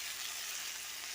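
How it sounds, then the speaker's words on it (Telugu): Potato pieces fry in a pan with ground masala, giving a steady, even hiss of sizzling oil, fairly quiet and close, with no other sounds. "ఇలా ఆలు ముక్కలు వేసేసి వేయించేసుకొని ఒక 2 మినిట్స్ ఇలా వేసుకొని"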